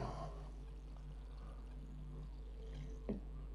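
Water is poured from a container onto a freshly potted plant in a garden, a soft steady trickle with a low hum underneath and a small splash near the end.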